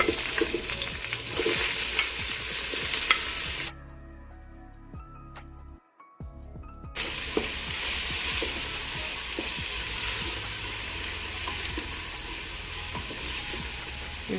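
Onions, garlic and seasonings frying in oil for a fish broth, a steady close sizzle with scattered stirring ticks, cut by a few seconds of muffled near-silence before the full frying hiss returns; no speech.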